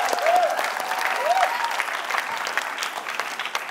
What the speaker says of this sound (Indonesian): tepuk tangan untuk Rika